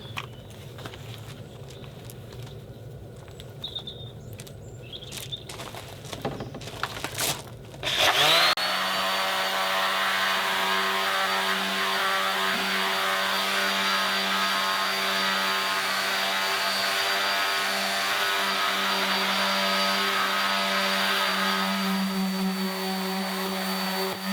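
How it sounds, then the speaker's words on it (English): An electric sander works foil-finish paint off a piece of furniture. Quiet handling sounds come first, then the motor starts with a loud, steady, close whine that holds to the end. "So I'm going to use an electric sander just because, well, obviously it's a lot of work."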